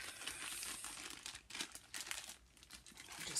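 A plastic bag of mixed paint for decorating lids is crinkled and squeezed nearby, producing continuous uneven rustling and crackling with brief pauses and no speech.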